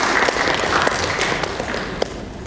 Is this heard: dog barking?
no